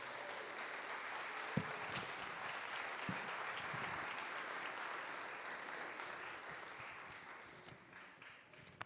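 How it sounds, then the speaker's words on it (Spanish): A church congregation applauds during a Sunday morning service, a dense, sustained wash of many hands clapping together that stays even and then slowly fades, with a few louder knocks along the way. "Levanta sus manos y denle un aplauso al Señor en esta mañana"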